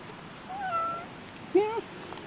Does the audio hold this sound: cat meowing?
yes